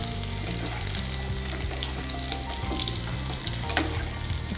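Drumstick pickle mixture is stirred in a hot pan, a continuous close sizzle with scraping and rustling strokes of the spoon throughout.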